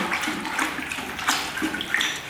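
Concrete etching compound is stirred into a bucket holding about 10 liters of water, giving close, irregular sloshing and swirling splashes that continue steadily throughout.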